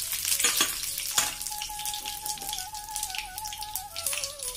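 Curry leaves and mustard seeds spit and crackle as they hit hot oil, a loud close sizzle with sharp pops at the start that settles into a steady hiss.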